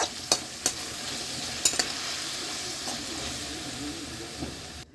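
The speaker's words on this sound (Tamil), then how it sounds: "கொஞ்சம் நல்லா கறிக்கலாம்." Raw banana pieces stir-frying in oil with popped mustard seeds, dried red chillies and curry leaves, giving a steady close sizzle broken by a few sharp scrapes or clinks of the spoon.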